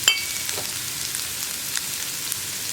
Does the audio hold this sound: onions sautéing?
yes